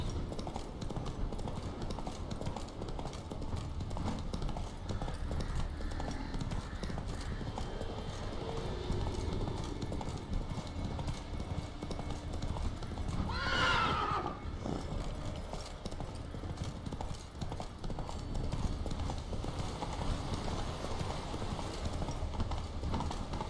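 Roach, Geralt's horse in The Witcher 3, gallops with a fast, relentless clip-clop of hooves throughout, and a single whinny cuts in midway over the steady pounding.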